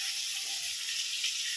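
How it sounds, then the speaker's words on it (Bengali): Potato and pointed gourd pieces fry in hot oil in a home kitchen, giving a steady, even high sizzle with no talking. "আলু আর পটল ভাজছি"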